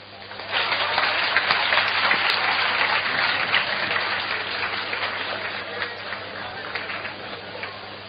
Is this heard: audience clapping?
yes